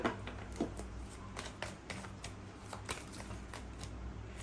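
Tarot cards are shuffled close by in a quiet room, with soft irregular riffling and light slapping taps repeating every half second or so under faint background hum.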